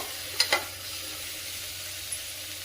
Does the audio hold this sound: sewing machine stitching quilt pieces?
no